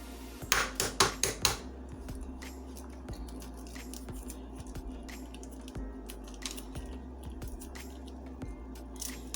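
Shell peeled off a boiled egg, a quick burst of four or five crisp crackles at the start, then scattered faint ticks and soft crinkles over a low steady hum.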